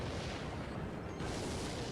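A rocket spell exploding in the mobile strategy game Clash Royale: a sustained, loud broadband boom and rumble that fills the whole stretch, with a brief dip and a fresh surge of blast noise about two-thirds through.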